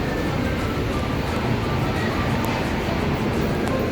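Riding inside a yellow LRT Line 1 train, a continuous low rumble and rolling hum fills the car, steady and loud throughout, with faint high squeaks over it.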